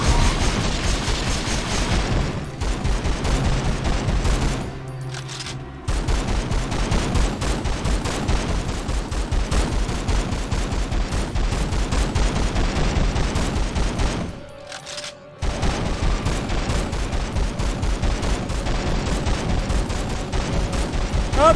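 Sustained rapid gunfire from the 2002 PS2 game Run Like Hell, loud and continuous automatic bursts that cut out briefly twice before resuming, with little or no talking.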